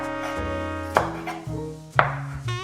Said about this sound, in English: Now cut some scallions,